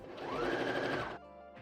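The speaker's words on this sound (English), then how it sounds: "I felt like I was just sewing through so much fabric." A sewing machine stitches through two layers of dress fabric in a close, rapid whirring burst lasting about a second, then stops abruptly.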